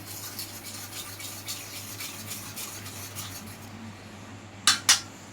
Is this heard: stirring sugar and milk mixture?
yes